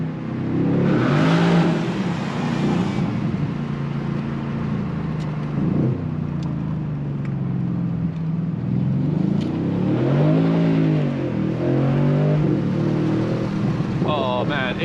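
A Mercedes-AMG C63 S engine revs and pulls through gears in race mode, loud rising and falling harmonic sweeps heard from the cabin, with someone talking over parts of it.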